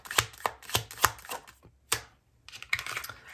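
Tarot cards being shuffled, a run of crisp riffling bursts with short pauses between them and a brief gap before a final longer shuffle, close and fairly quiet.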